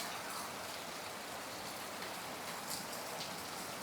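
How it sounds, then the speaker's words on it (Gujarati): Heavy monsoon rain pours over a village in Botad, Gujarat, a steady, dense hiss of drops striking the ground and roofs, even in loudness throughout and without any voices. "મસ્ત વરસાદ આવે."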